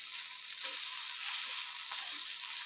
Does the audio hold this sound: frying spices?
yes